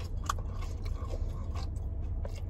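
A crunchy Taco Bell rolled chicken taco is bitten and chewed close to the microphone, giving quiet, crackly crunches and scrapes that come in small irregular bursts.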